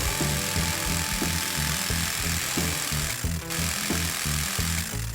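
A jigsaw cuts through wooden boards with a steady, loud buzzing drone and a pulsing low chatter that runs without a break, close by and with no talk.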